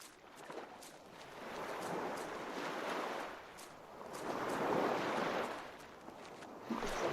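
Wind sounds as an audio clue in The Last Door horror adventure game: a soft, hollow whoosh that rises and falls in slow gusts, moderately quiet, with no voices.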